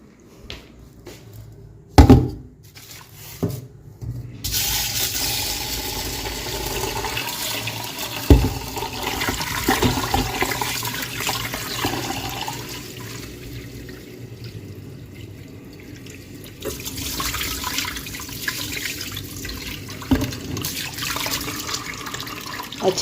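Rice being rinsed under running tap water in a home kitchen, with a steady stream of water splashing into a vessel and occasional clunks and sloshing as the grains are swirled, close and fairly loud.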